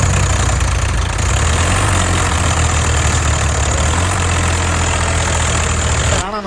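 A Pro Tec 855FE tractor engine labors loud and close while hauling a stuck Mahindra tractor by rope on a rough field track, a steady heavy drone that cuts off abruptly at the end.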